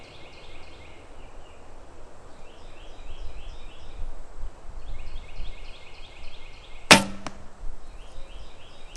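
A single arrow released from a barebow rig built on a 27-inch Win&Win ATF-DX riser with recurve-style serving: one sharp, loud snap of the shot near the end, over a steady outdoor background with birdlike calls.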